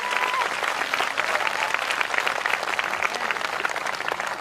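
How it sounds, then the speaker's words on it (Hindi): A church congregation applauding during a sermon, a dense, sustained wash of many hands clapping at steady loudness throughout. "आइए हम अपने खुदा के लिए एक अच्छी ताली बजाएं।"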